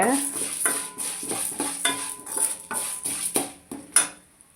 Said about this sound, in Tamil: இதை சேர்த்து கொஞ்சம் வாசனை வர்ற அளவுக்கு வறுத்து எடுத்துக்கோங்க